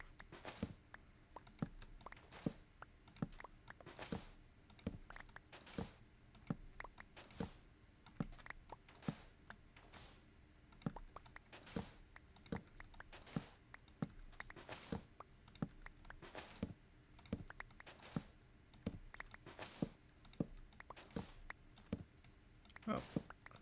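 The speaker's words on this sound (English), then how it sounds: "I hope you're enjoying the clicking of my mouse." Computer mouse clicking during Minecraft play, a long run of faint, sharp clicks at an irregular, fairly quick pace over low background noise, quiet and close.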